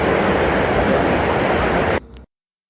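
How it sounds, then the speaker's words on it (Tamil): Water from a small waterfall near Arapaleeswarar temple in the Kolli Hills rushes steadily for about two seconds, then cuts off abruptly into silence. "இதான் சிறு அருவி."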